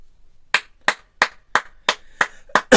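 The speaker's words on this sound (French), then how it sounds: "Voilà, je t'applaudis, Adrien Rabiot" One person claps alone at a press conference, about eight sharp, evenly spaced claps, close and crisp against near silence.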